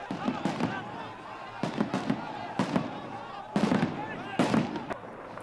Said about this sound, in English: driven out by security forces using tear gas and gunshots.